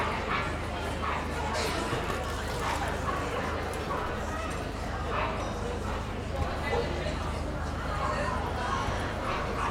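A Belgian Malinois barks repeatedly at a Darlington dog event, its bursts fairly close and mixed with background talk and general crowd noise.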